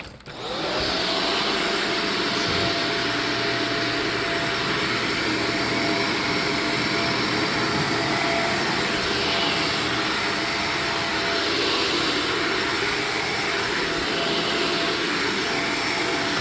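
A vacuum cleaner runs continuously on carpet, a loud steady motor whine and airflow roar after a brief start, holding constant for the whole stretch without talk.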